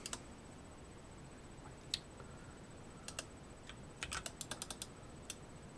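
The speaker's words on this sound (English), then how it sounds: "typing new values in here during runtime" Keystrokes on a computer keyboard while entering new values into a video game during runtime: sparse, isolated clicks at first, then a quick cluster of taps near the end, close but fairly soft over a faint steady high whine.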